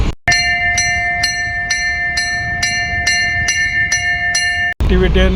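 At a ghantanaad protest in Fursungi against a garbage depot, a metal bell clangs in a steady rhythm, about nine loud ringing strikes close by, before a voice cuts in briefly at the end.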